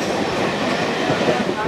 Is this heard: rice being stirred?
no